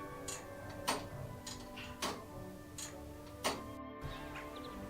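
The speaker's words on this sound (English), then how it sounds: "So next time you hear Bampton church clock" Bampton church clock, an old tower clock whose pendulum is regulated by an electromagnet, ticks in a slow, steady beat of sharp clicks roughly once a second against a faint background hum.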